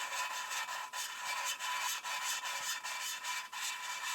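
Valve being lapped into a Porsche 944 S2 cylinder head with a suction-cup tool, a rhythmic scratchy rubbing that swings back and forth in quick even strokes, close and steady.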